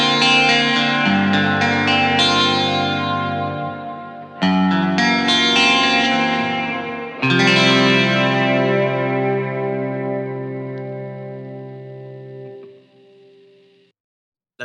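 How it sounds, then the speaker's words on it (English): An electric guitar run through a modeling unit with micro pitch, delay and reverb plays three strummed chords. Each chord rings out with a shimmering, echoing tail before slowly fading to silence. "I'm going to use micro pitch and some delay and reverb just on the unit"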